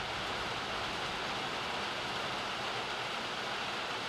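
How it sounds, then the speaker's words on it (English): Heavy rain in the video game Outlast pours down as a steady, loud, even roar with no breaks and no voices. "That rain is so loud!"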